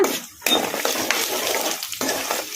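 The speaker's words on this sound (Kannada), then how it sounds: "ಇವನ್ನೆಲ್ಲ ಮೀಡಿಯಂ ಫ್ಲೇಮಲ್ಲೇ ಫ್ರೈ ಮಾಡ್ಕೋಬೇಕು ಶೇಂಗಾ ಬೀಜ ಕಡಲೆಬೇಳೆ ಬೇಳೆ ಎಲ್ಲ" Peanuts and chana dal fry in a pan over a medium flame, with a busy sizzling crackle and the scraping, clinking strokes of a spoon stirring against the metal, in close, uneven bursts.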